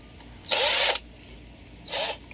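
A power screwdriver drives a screw into a slingshot during assembly, giving two loud buzzing whirs, one longer and one shorter, close by with no talking.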